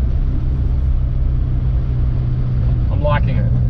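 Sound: 1969 Toyota Corona with 4AGE engine swap driving

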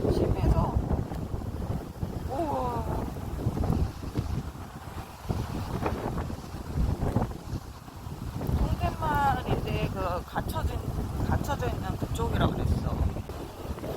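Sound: strong wind at the seaside

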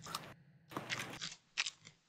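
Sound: crunching and munching while eating

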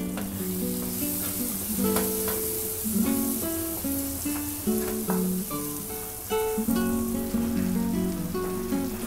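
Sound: tomato and masala frying in a pan for dal tadka

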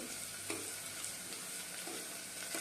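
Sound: cashew pieces frying and being stirred in a pan

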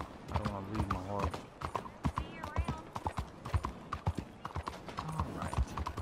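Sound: horse hooves walking, from a video game

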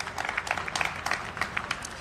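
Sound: applause

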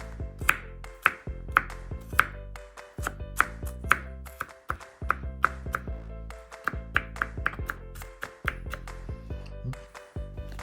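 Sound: chopping garlic into small pieces

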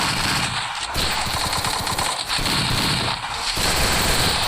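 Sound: gunfire in the video game Free Fire

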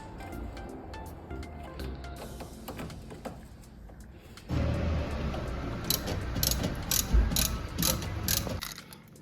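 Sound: ratchet wrench used while replacing a Nissan car's battery

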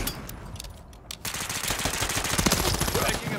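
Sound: gunfire in Call of Duty Modern Warfare 3 video game

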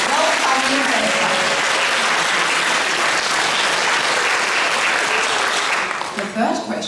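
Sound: audience applause at graduation performance

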